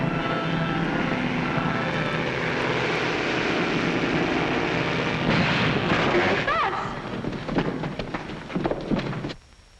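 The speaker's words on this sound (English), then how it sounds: "The plane, look!" A loud, continuous roar of a propeller plane engine that swells and then fades away, with rushing noise and some scattered crackles near the end.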